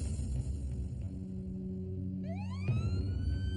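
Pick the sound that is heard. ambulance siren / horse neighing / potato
ambulance siren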